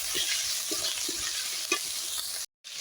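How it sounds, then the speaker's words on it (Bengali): Spice paste with chopped tomato, salt and turmeric fried and stirred in a pan for a fish kalia. A loud, continuous sizzle runs under repeated scraping stirs, then cuts out briefly near the end. "এবার ভালোভাবে মশলাটা আমি কষিয়ে নেব"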